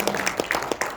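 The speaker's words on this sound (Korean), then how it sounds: "우리 고병찬 목사님께 다시 한번 큰 박수 부탁드립니다" A church audience claps for a pastor in a short burst of applause, a quick run of distinct claps filling the second, no clear speech over it.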